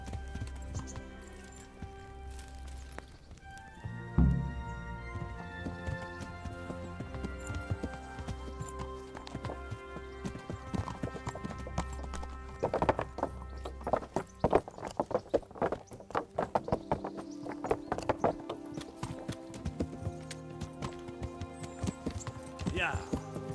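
Horse hooves clip-clop steadily in the medieval video game Kingdom Come: Deliverance, a rhythmic riding gait under a continuous musical score, with occasional louder hoof hits and a person talking over parts of it.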